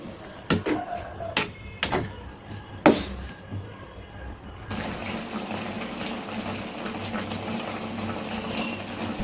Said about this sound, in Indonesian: Selanjutnya biarkan kuahnya mendidih dan menyusut